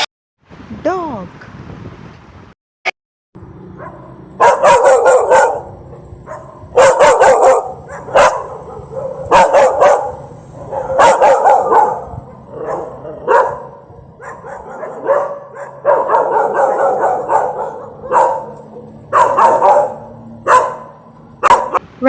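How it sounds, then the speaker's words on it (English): A dog barks loudly and repeatedly in rapid bursts, close by, with a short whine first and some wind noise. "dog"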